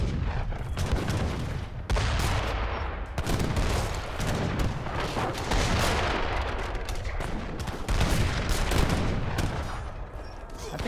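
Cannon fire and musket volleys in a team battle of the strategy game Age of Empires III Definitive Edition, dense overlapping booms and crackling shots in continuous rapid succession, loud and busy throughout.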